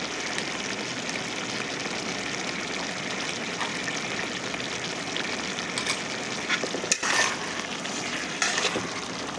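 Mixed vegetables frying with masala in hot oil, a steady close sizzle and crackle running throughout, with a few brief stirring scrapes near the end.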